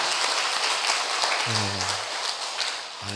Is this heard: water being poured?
no